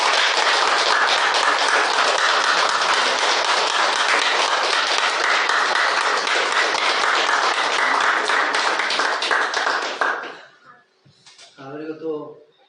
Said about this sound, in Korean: 우리 큰 박수로 우리 하나님께 감사와 영광 드렸으면 좋겠습니다